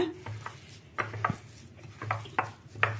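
Semolina is being mixed by hand into vada batter in a bowl: soft, irregular squelching and stirring strokes with a few sharper taps against the vessel, close and quiet.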